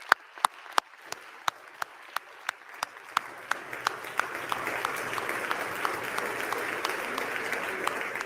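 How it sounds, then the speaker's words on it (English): Applause in the House chamber of the Capitol during a congressional session, starting as scattered single claps and swelling into sustained, dense clapping from a large group. "Thank you for this round of applause."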